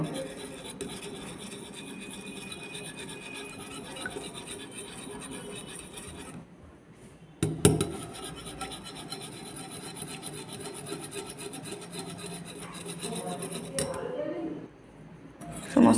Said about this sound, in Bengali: একটা ডিম দিয়ে দেব সমস্ত উপকরণ একটু মিক্সড করে নেব